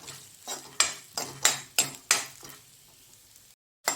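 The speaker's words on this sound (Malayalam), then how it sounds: "അത് നമുക്കൊന്ന് മൂപ്പിച്ചെടുക്കാം." Chopped coconut bits roast in ghee in a pan, with a series of about six sharp, bright stirring scrapes over a soft sizzle, close up, before a brief drop to silence and a final scrape.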